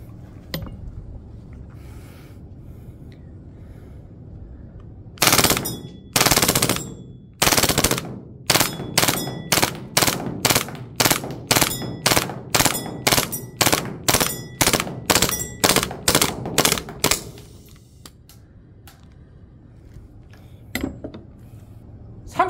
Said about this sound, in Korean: 여기 있는 가스 CO2가 도대체 어느 정도까지 나갈지 한번 연사로 시원하게 한번 쏴보죠